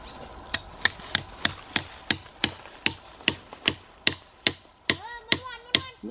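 Sharp, ringing hammer blows drive metal spikes into a tree trunk about every third of a second, a dozen or more in a steady rhythm, close and loud.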